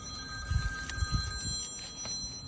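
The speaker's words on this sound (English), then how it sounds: "That might be his phone call." A telephone rings faintly in the distance at an old outdoor cemetery, its steady tone sitting under low rumbling handling noise and wind.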